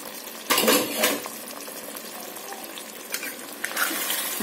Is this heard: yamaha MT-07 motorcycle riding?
no